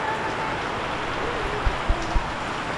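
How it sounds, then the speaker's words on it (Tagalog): Heavy rain pours across Bohol in a steady, dense hiss close by, with a few low thumps near the end. "Pero malakas ang ulan."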